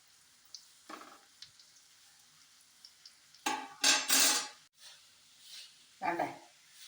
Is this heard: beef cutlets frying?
yes